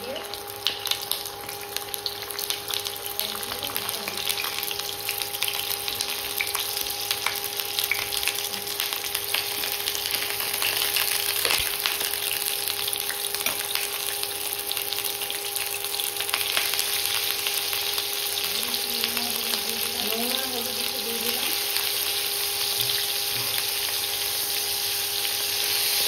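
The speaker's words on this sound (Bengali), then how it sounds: "তেল গরম হয়ে গেছে, পটলটা ছেড়ে দিই। পটলটা সুন্দর করে ভেজে নিতে হবে নুন হলুদ দিয়ে।" Pointed gourd (potol) frying in hot oil with salt and turmeric, a steady, loud, hissing sizzle that runs unbroken for the whole stretch, heard up close with a faint tonal hum underneath.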